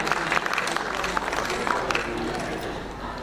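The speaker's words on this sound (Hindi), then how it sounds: "एक बार तालियों के साथ अभिनंदन इस मंच का।" Sustained clapping from the audience at a literary awards ceremony, a broad continuous patter with a few sharper claps standing out, while faint voices murmur underneath.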